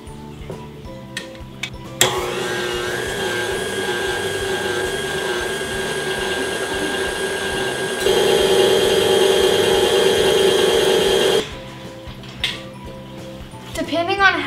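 An electric mixer whisking cream cheese, vanilla and sugar in a bowl gives off a steady whirring drone that starts abruptly, grows louder partway through, then cuts off. A voice talks before and after.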